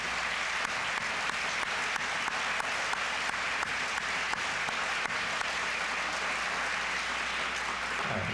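Audience applause at an end-of-summer celebration honoring award winners, a steady, dense wash of many hands clapping that runs the whole stretch at an even, moderate level, with no voices rising above it.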